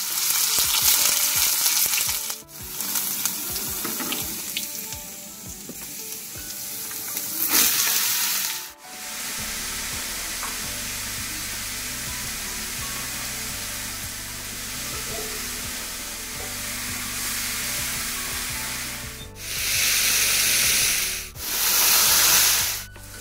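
Ridge gourd, potato and poppy seed curry sizzles and fries in a pan, a steady close crackle broken by a few abrupt stirring pauses, no voices.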